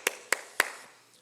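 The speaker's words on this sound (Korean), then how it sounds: "우리 하나님 앞에 영광의 박수 올려드립니다." Three sharp, evenly spaced claps ring out close by in a quiet room during a Korean Sunday church worship service, each with a brief echo and then stillness.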